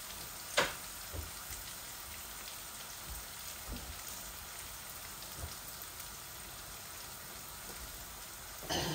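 Tilapia pieces sizzle steadily in hot oil for a potato-and-carrot curry: a soft, even crackling hiss with a few sharper pops standing out. The sound is close, and no one speaks.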